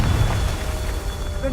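A Confringo fire spell bursts in Hogwarts Legacy, a short rumbling blast with a low boom fading into a steady hiss, with a voice over it.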